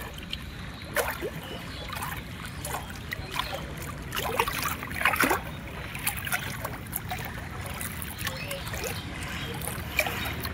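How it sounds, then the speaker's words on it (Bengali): Waves of the Ganges river at night near a Kolkata temple, a steady, close wash and lapping of water with scattered splashes over a faint crowd murmur. "এই দেখো শুধু ঢেউয়ের আওয়াজ হচ্ছে"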